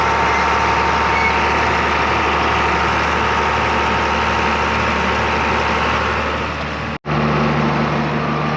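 A heavy engine idles steadily and loudly, a constant low rumble with a brief dropout near the end before it resumes.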